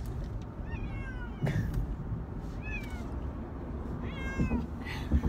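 Several cats meow back and forth, high and drawn out, over a steady background hum.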